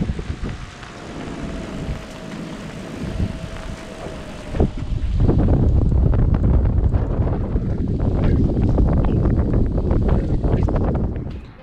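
Strong wind buffets a sailboat during wicked weather at St. Anne des Monts, a steady roaring gust that swells louder about halfway through and keeps blustering close to the microphone, with no talk.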